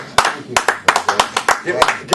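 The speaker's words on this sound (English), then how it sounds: "I'm going to give a round of applause for Charlie Fisher once again." A few people clap in short, uneven bursts, close by in a radio studio, with no talking.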